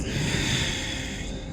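A single long exhalation during yoga breathing, a close, steady airy breath lasting over a second with no talking.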